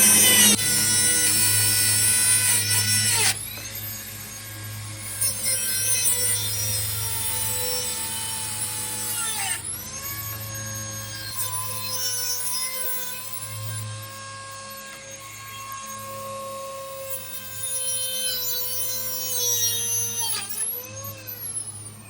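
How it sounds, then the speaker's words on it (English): Dremel rotary tool cutting the ends of steel cable for deck railing, a continuous high-pitched grinding whine that shifts pitch as the wheel bites, close and loud with short breaks, no speech. "the Dremel was all day for cutting the cable ends"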